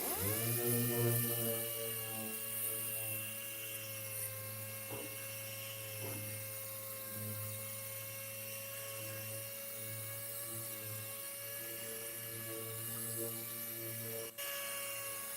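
A machine sander works car paint with high-grit sandpaper, giving a steady, droning whine with a constant pitch that runs on alone for the whole stretch, faint and even, with a brief dip near the end.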